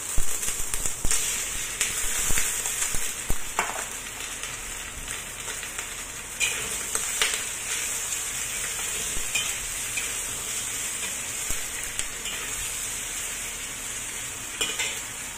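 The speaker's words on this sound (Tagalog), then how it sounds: "ilagay ko na yung bean curd" Bean curd frying in a pan, a loud continuous hiss and sizzle with scattered crackles and spatters throughout, close up and without talking.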